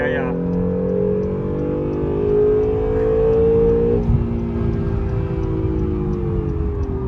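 An Acura NSX with a straight-pipe exhaust drones steadily from inside the cabin while driving, its engine tone holding and then shifting in pitch partway through, loud and continuous.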